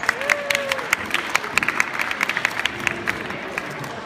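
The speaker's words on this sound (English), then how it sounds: "please, everyone, give me a round of applause for Dr." Applause from an audience at Boobie Palooza in Berkeley, California, following a speaker's introduction: a steady wash of clapping with scattered sharp claps and a brief voice or whistle near the start.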